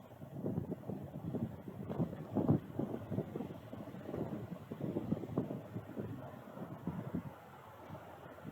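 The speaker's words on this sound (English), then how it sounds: "it's windy" Wind buffeting a microphone on an outdoor archery range, a steady low rumbling roar with gusty swells throughout, no voices.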